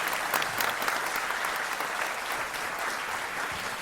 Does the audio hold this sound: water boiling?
no